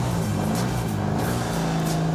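A Daihatsu Cuore L60 with a two-cylinder engine pulls away from a standstill, its engine note steady and fairly loud up close, with no talking.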